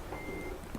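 In Farming Simulator 15, a truck's reversing alarm sounds as a faint, brief electronic tone over a low engine rumble.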